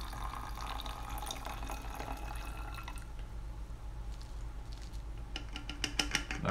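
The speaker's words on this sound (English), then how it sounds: "You want to gently tilt the early made flask and pour in the vinegar." Vinegar is poured into a tilted Erlenmeyer flask for a carbon cycle lab, a steady liquid trickle and patter running continuously over a low hum, with a few brighter splashes near the end.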